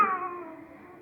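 A cat lets out one short, shrill screech that starts sharply, then thins and fades over about a second, heard alone without talk.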